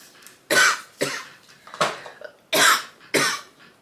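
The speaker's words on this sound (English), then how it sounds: "after you have a coughing fit" A person coughing in a fit of about five loud, harsh bursts, each followed by smaller hacks, close up with nothing else around, set off by a waterproof mattifying setting spray.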